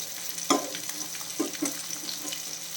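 Kerala-style fish frying in hot oil gives a soft, continuous sizzle, broken by a few sharp clinks and scrapes of a utensil turning the pieces in the pan.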